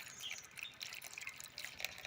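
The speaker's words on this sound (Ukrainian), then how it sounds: "Чи зможу я влучити в бочку? Наливаємо води." Water poured into a simple rain gutter made from sewer pipe trickles and splashes steadily down into a barrel outdoors, a soft, continuous running and dripping sound without talk.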